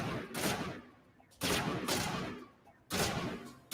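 Sniper rifle gunfire in a video game: three loud, sharp shots spaced about a second and a half apart, each with a long echoing decay, no talk.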